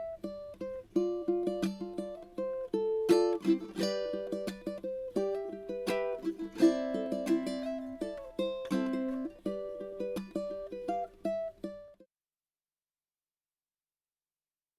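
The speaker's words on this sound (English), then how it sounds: "I'll give you a quick preview of what it sounds like" Fingerstyle ukulele playing the verse of a song: plucked notes and chords in a steady, gentle pattern, close and clean, ending abruptly into silence after about twelve seconds.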